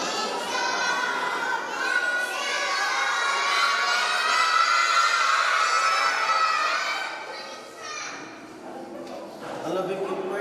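Schoolchildren shout and cheer together at a school welcome ceremony, a loud, sustained crowd of young voices that swells and then dips briefly before rising again.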